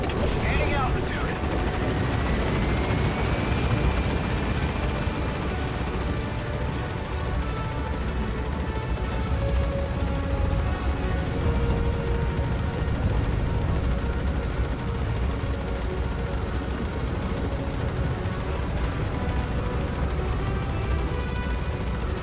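A helicopter in the video game Metal Gear Solid V: The Phantom Pain climbs and gains altitude, its rotor and engine roaring loud and steady throughout with a rising whine early on.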